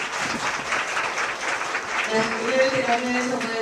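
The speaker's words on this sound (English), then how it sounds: "Let us give a big round of applause to our three panelists." An audience at a world peace forum applauds the panelists, a dense, steady round of clapping that swells slightly toward the end, with some voices and a faint tone underneath.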